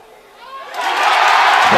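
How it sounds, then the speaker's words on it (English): Indiana home basketball crowd at a game against Michigan roars after Al Durham makes his first free throw, the cheer swelling quickly from quiet into a loud, sustained, close-up eruption. "now the crowd erupts as Al Durham makes his first free throw"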